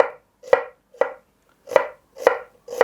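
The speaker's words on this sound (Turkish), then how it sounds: "şöyle dilimliyorum. Soğanları çok aşırı ince doğramıyorum." Onions sliced with a knife on a cutting board at medium thickness, heard as six crisp, close chopping strokes in a steady, slightly uneven rhythm with quiet gaps between, no talking.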